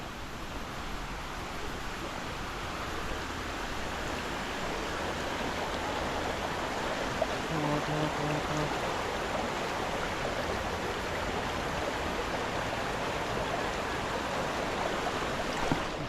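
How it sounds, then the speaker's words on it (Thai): Steady broadband rush of stream water flowing on a Sunday outing to Tad Mun waterfall on the outskirts of Vientiane, heard close and continuous with no voices. "น้ำไหลตรงนี้"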